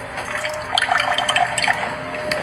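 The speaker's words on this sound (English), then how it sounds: "This is our cold water pressure in the kitchen." Cold water runs from a kitchen faucet, splashing and sputtering irregularly with small droplet bursts, close and moderately loud, with no talking.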